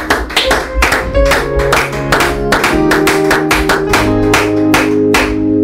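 A church congregation claps in rhythm during a service, sharp repeated hand claps filling the space alongside sustained tonal music.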